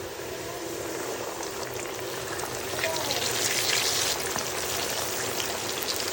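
Flour-coated chicken deep-frying in hot oil, a steady dense bubbling crackle that swells slightly louder midway, continuous and close with no talk.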